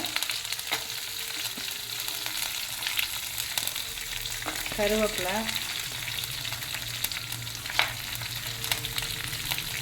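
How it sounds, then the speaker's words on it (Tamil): Small and large onions fry with curry leaves and red chilies in a pan for hotel-style chutney, giving a steady crackling hiss throughout, a brief bubbling flutter midway and occasional faint stirring taps. "வெங்காயம் நல்லா வதங்கின உடனே இதில் கருவேப்பிலை"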